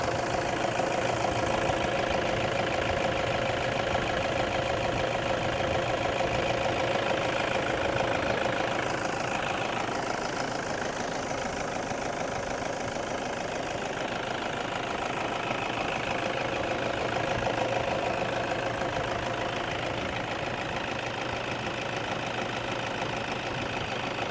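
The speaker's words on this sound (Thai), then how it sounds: "ดีจริงๆครับเสียงเครื่องฟังเสียงเครื่องเลย" Engine of a 2012 Toyota Vigo Champ Smart Cab 2.5E pickup idling, a steady, even mid-pitched rumble with a fine rhythmic clatter, holding at constant loudness throughout with no speech.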